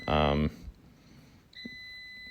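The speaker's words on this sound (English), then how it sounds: "Don't mind the beeping" A loud electronic oven beep sounds at the start, followed by quiet, then a fainter sustained tone comes in and holds.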